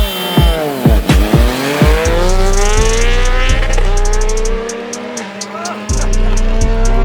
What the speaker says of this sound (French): Ou encore ici avec un Tracer 900 GT contre un BMW GS 1250.